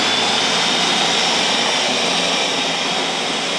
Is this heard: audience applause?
no